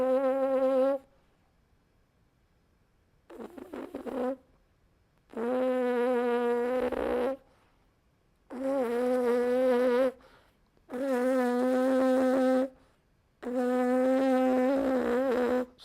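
Lips buzz on a brass instrument mouthpiece, producing five sustained pitched buzzes separated by short pauses, the first tentative and the later ones full and steady, heard close with no talking.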